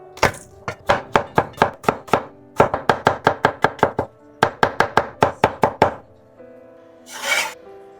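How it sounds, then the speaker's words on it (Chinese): Garlic cloves crushed and then minced with a kitchen knife: close, crisp chopping strikes in quick rhythmic bursts with short pauses between runs, ending in a brief scraping swish. "2瓣蒜，先拍碎再切末。"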